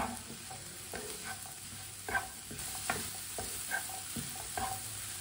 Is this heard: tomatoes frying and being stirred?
yes